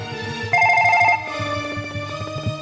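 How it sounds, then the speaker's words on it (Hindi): A telephone rings with a steady repeating electronic trill, loud and near, over a continuous musical background with no voices. "अरे ये क्या, डॉक्टर साहब का फोन आया है।"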